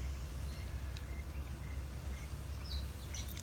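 Faint parrot and budgie calls chirp sporadically in the distance over a steady low rumble of outdoor background noise.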